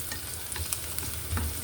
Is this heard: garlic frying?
yes